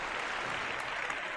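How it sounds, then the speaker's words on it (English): A round of applause from a small group, a soft, even patter of clapping heard faintly and steadily throughout, with no voices over it. "And there's a big round of applause for Shira."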